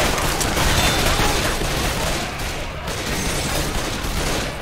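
Pistol fire in Left 4 Dead 2, a dense fusillade of shots cracking continuously at close range, loud and unbroken throughout.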